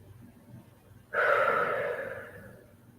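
One deep breath during a yoga stretch is drawn in sharply and then released in a long, fading exhale, close and clear after a quiet moment.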